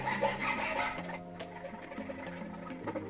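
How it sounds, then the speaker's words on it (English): A BMX handlebar bar end being ground down, with rough rubbing and rasping strokes in irregular bursts, fairly close and moderately quiet, with no talking. "Grind the bar end down until it fits."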